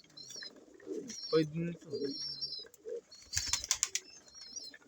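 Pigeons in a breeder's loft coo close by in short throaty bursts mixed with a few higher chirps, while someone talks over them.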